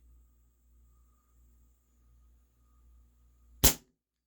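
One sharp crack from a WE Tech Bulldog airsoft gas blowback pistol, a low-power 1 joule gun, fired after several quiet seconds of faint background hum.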